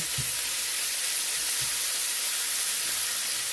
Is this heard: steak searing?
yes